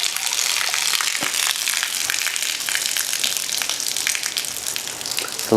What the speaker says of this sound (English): Pull this filter out, and then I always open this pressure relief valve to drain it faster.